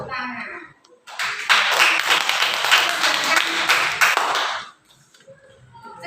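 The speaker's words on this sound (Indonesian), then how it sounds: "Tepuk tangan." Students in a classroom clap together for about three and a half seconds, a brisk, fairly loud burst of hands that starts sharply and stops abruptly, with quiet room sound and a voice before and after.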